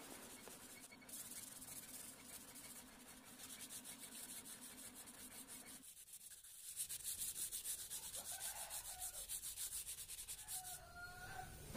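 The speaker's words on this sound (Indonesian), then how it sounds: "langsung saya amplas dengan amplas velcro dengan grit 180" Hand sanding over painted wood with 180-grit velcro sandpaper, a steady rough rubbing scrape that continues back and forth for the whole stretch, briefly pausing midway before resuming slightly louder, with no talking.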